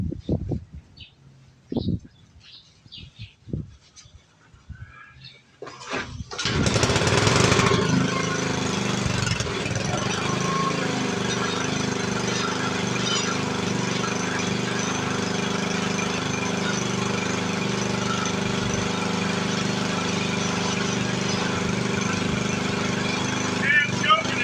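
An old Wisconsin engine on a brush mower sputters through a few short bursts, then catches and runs loud and steady with a constant rough drone to the end.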